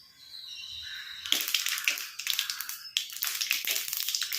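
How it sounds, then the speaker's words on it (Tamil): Mustard seeds spluttering in hot sesame oil in a pan, a dense burst of crackling pops that starts abruptly and keeps sizzling close by, with no voices. "கடுகு நல்லா பொரிஞ்சிருச்சு."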